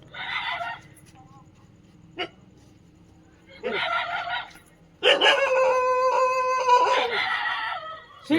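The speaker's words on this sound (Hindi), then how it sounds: "देखा संगवारी डॉगी आया है नया" A dog barks in short loud bursts close by at a village home, with long quiet gaps and a longer stretch of overlapping barks and yips toward the end; a fowl may also call.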